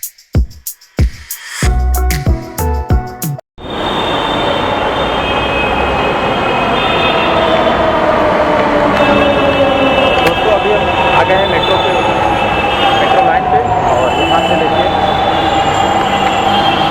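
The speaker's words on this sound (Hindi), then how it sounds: "ये रही मेट्रो।" Delhi Metro train pulling into the station: after a few seconds of scattered platform noise, a loud, steady rumble and rising wheel whine fill the rest of the clip, close by, with faint voices under it.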